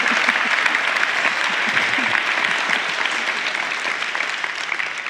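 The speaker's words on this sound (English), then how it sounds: "The applause was not for you" An audience at a talk on Rwanda's dictatorship breaks into sustained applause, a loud, dense wash of many clapping hands that stays steady throughout, with a few voices faintly mixed in underneath.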